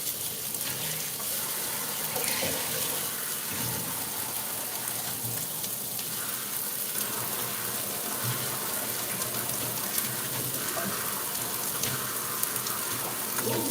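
Water poured into a cup while making homemade meatballs, a steady broadband gush and trickle running continuously at close range with no talk over it.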